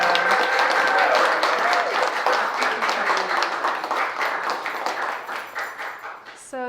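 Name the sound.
audience applause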